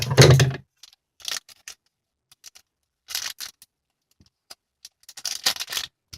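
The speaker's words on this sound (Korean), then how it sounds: "먼저 여기다가 이 가위로 자를게" A burst of crinkling at the start, then a scattering of short, crisp scissor snips cutting through a packet, with quiet gaps between cuts.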